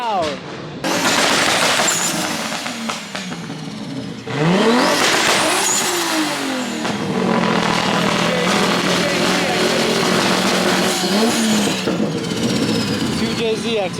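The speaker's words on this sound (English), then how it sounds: "The rap on this R8 is so loud." Audi R8 supercar exhaust rapping loudly at a private supercar meet, a close, continuous roar with revving sweeps and crackles, other cars audible around it and people talking.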